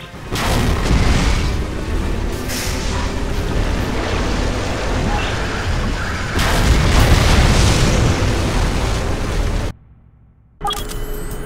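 A weapon blows up in the video game NightFire, a sustained roaring blast of rumbling debris that swells and holds, then cuts to silence before a further burst.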